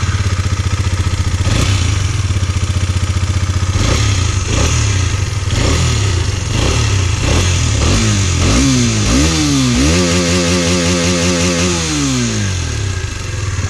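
A KTM Duke 250 motorcycle engine revs hard and loud, blipping the throttle repeatedly with rising and falling sweeps and rev-limiter cutoffs over a steady idle rumble, close by with no talking.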